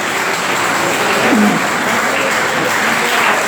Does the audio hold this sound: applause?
yes